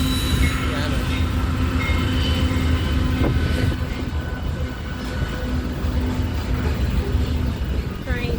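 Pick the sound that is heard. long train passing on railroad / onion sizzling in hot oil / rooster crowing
long train passing on railroad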